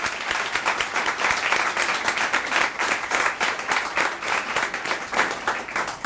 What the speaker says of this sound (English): I'd like to ask for a round of applause for all of our wonderful volunteers